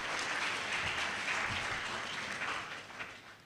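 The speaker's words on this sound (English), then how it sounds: "I think he deserves a round of applause" A round of applause from the audience at a university inaugural lecture, dense, steady clapping from a crowd heard at a distance, holding even before easing off slightly near the end.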